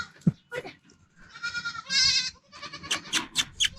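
Baby goats at a desert village home in India bleat in a series of short and drawn-out cries, close and clear, with a few knocks and faint background sounds between calls.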